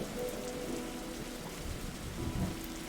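Steady rain pours in a video game detective adventure, a soft continuous patter with low rumbling swells, faint and alone with no voices.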